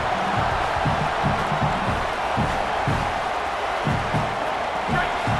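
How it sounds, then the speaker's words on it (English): Dense stadium crowd roar at an EA Sports College Football game, a steady wash of cheering voices with rhythmic low thumping chants, continuous and loud throughout. "The roar of the crowd trying to fuel this defense to keep them pinned in their own end"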